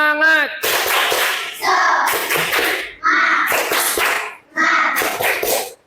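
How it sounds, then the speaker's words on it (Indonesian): Children in a classroom doing a rhythmic spirit clap, with loud, close bursts of patterned clapping repeated in four groups, mixed with chanting voices. "Tepuk semangat."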